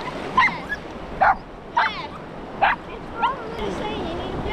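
Puppy barking on a beach: five sharp, high yips spaced about a second apart, close by, over a steady wash of surf, with a person's voice mixed in.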